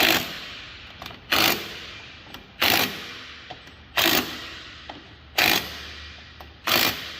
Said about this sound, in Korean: 저희들은 현장에서 워낙 많은 볼트 너트를 조이고 풀고 하기 때문에 이 소리만 듣고도 토크 값을 알 수가 있습니다